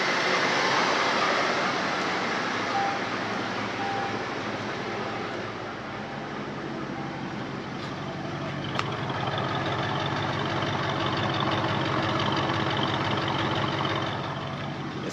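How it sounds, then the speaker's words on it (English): A 1987 Lincoln Town Car engine idles steadily and close, a low rumbling drone with an even hum, briefly marked by a faint click or two but otherwise running alone without talk. "It's at least idling."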